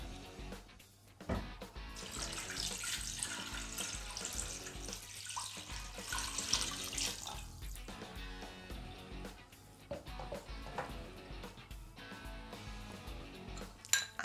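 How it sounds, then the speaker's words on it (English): Water pours steadily into a metal pot of gizzard and plantain pepper soup for several seconds, a splashing rush with occasional clinks of the pot, fairly close and moderately loud. "I'll add some water."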